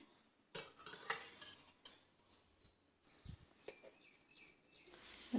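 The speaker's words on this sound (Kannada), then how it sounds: "ಗಟ್ಟಿ ಮೊಸರು ಹಾಕ್ಕೊತಾ ಇದ್ದೀನಿ." A spoon clinks and scrapes against a bowl as thick curd is added to ragi ambali. There are a few sharp, light metallic taps up close, fairly quiet, with no talking.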